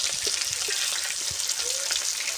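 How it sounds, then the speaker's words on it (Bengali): Potatoes frying in hot oil in a rustic village kitchen give a steady, close crackling sizzle with small pops and bubbling throughout. "তেল ঢাল দিলাম। এবার আলুটা ভেজে নেব।"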